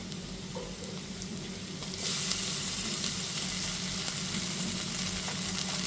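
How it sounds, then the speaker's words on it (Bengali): Ginger, garlic and green chilli paste hits softened onions frying for gondhoraj chicken, a steady sizzle that jumps louder and brighter as the paste goes in, then holds a constant hissing fry. "তারপর এতে দিয়ে দিচ্ছি 3 টেবিল চামচ আদা রসুন আর কাঁচা লঙ্কা বাটা"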